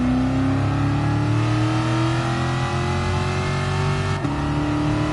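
Shelby Cobra 427 V8 revving hard as it accelerates through first and second gear, a loud continuous engine roar rising in pitch with a brief dip at a gear change near the end.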